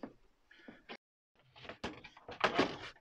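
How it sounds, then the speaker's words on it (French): A van door being refitted on its hinges and locked, heard as a few close knocks and thunks of the door and metal fittings, with a silent gap and then busier clattering toward the end. "Ça c'est toujours le plus délicat, c'est de remettre la porte"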